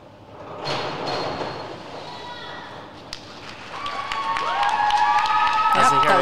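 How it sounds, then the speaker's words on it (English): Crowd at a girls varsity high school swim meet cheering and applauding after a dive, a swelling broadband roar with clapping that builds toward the end, with voices in the mix. "Good reaction from the crowd."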